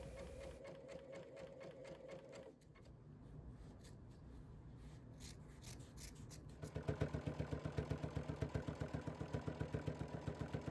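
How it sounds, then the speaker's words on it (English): A sewing machine zigzag-stitching quilt strips together into a seam, first running quietly with brief pauses, then a loud, fast, steady mechanical chatter of needle strokes close up, with no talking. "you can actually use a zigzag stitch to sew those together in a seam"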